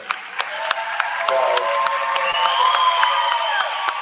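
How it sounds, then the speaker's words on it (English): A ballroom audience at a fairy-tale themed ball applauds the committee, a steady wash of clapping with scattered cheers and whoops, loud and close throughout. "We can take a round of applause because you guys are amazing"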